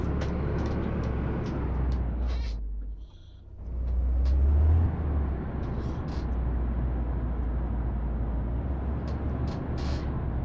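A 2018 Range Rover Sport engine in the City Car Driving game, a loud, continuous rumble that dips briefly and then swells as the car pulls away and accelerates.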